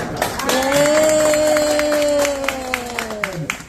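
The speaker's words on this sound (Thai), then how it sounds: "ขอปรบมือ" Audience at a Thai public health alumni gathering applauds, with scattered claps and crowd noise mixed under a sustained voice or tone through the clip.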